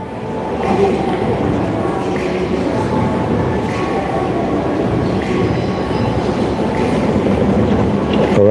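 A subway train runs steadily throughout, a loud, continuous rumble of wheels and carriage noise with faint squeals and rattles, heard from inside the moving car with no clear speech.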